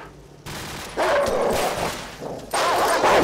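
Attack dogs bark and yelp in the video game Call of Duty 4: Modern Warfare during a stealth mission, sharp bursts rising over a noisy battlefield background, with no speech.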